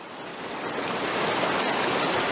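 Steady broadband rush of water from a diverted stream running through a gold sluice box behind a small dam, constant and fairly loud, swelling slightly at the start, with no voices.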